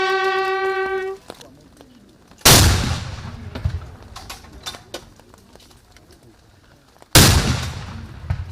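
Gun salute fired at a military funeral for a four-star general, two loud booming shots several seconds apart with long echoing decay, after a brief bugle-like tone.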